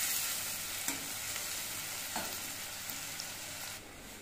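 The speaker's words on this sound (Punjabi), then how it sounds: "ਬਾਕੀ ਪਿਆਜ਼ ਭੁੰਨ ਲੈਂਦੇ" Chopped onions fry in a pan with a dense, steady sizzle. Brief scraping clicks from stirring come through now and then, and there is no talk.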